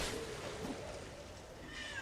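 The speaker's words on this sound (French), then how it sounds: "Oui, le chat." A faint, short cat meow from the Dark Souls 2 video game rises briefly over quiet, hissy in-game ambience.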